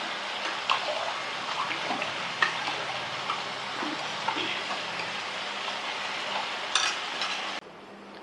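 Lentils stirred into tamarind water in a bowl for sambar, a close, continuous wet swishing and scraping with small clinks, steady and moderately quiet.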